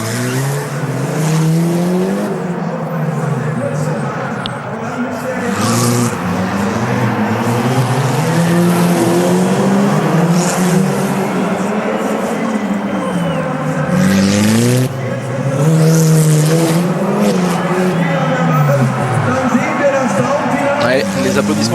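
A 1300cc four-cylinder, 190-horsepower race car at the Race of Champions Nations Cup in Düsseldorf, its engine rising and falling in pitch as it accelerates and shifts, with occasional tire squeal, under a voice talking throughout.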